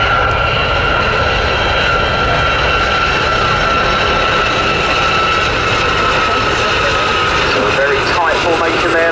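Westland Gazelle helicopters flying in formation at the Cosford air show, a steady loud whine and rotor drone that holds throughout, with a commentator's voice heard over it.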